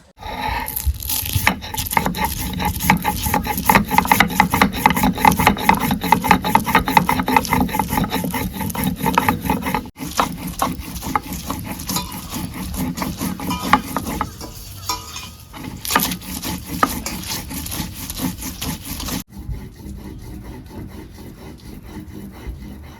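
Soaked chickpeas ground by hand on a stone slab, a long run of rhythmic, gritty rubbing strokes, loud and close, briefly pausing twice before continuing more softly.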